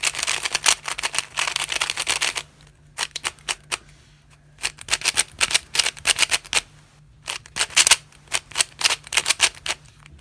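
Yan 3 speed cube turned in bursts of fast, crisp plastic clicks and clacks, dense at first, then broken into short rapid flurries separated by brief pauses, close and fairly loud.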